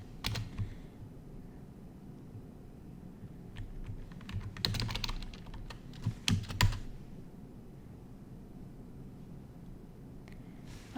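Soft keyboard typing as a git clone command is entered, quiet scattered keystrokes building into a few quick clusters of clacks mid-way, with no talking.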